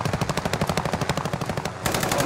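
Rapid automatic gunfire in the Warzone video game, a steady stream of close, loud shots rattling in quick rhythm before a brief gap and a renewed burst.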